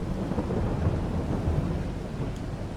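Steady rain with rumbling thunder fills a Farming Simulator 22 scene, a continuous low roar of a storm at even loudness throughout, with no talking.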